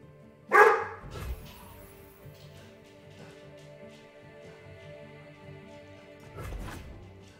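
A dog barks in a fantasy card game, one sharp loud bark followed by a softer bark and a few faint yips, then a second bark near the end over a quiet musical background.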